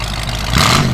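A 1929 Ford Woody Wagon engine is revved, its loud, close rumble swelling upward in a single short blip.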